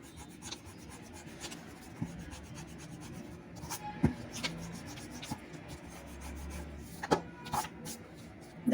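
An eraser rubs against an OMR answer sheet in short, soft scrubbing strokes, close and faint, with a few sharper taps and pauses between the passes and no talking.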